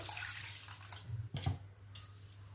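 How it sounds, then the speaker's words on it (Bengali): Gobindobhog rice rinsed in a bowl of water to wash off its powdery starch, giving a low running-water wash with soft sloshing swirls and a few splashy surges, close and without speech. "চালের মধ্যে অনেক পাউডার থাকে, সেই জন্য চালটা অবশ্যই ধুয়ে নিতে হবে"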